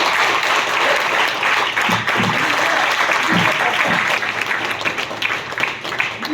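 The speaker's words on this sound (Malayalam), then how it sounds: "നല്ല കൈ അടിക്കണം എന്താ" Seminar audience clapping hands loudly, a dense, sustained burst of applause filling the room from start to finish, easing slightly toward the end.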